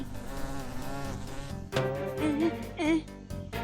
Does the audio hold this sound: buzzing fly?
yes